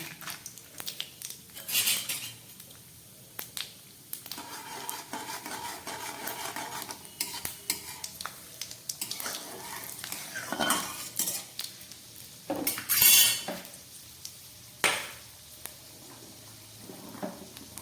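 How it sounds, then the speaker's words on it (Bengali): Peanuts fry in a five-spice tempering in a pan, with a soft sizzle under frequent clinks and scrapes of a spoon stirring against the metal, loud at moments. "এই ফোড়নের মধ্যে আমি একটু বাদামটাকে ভেজে দিচ্ছি"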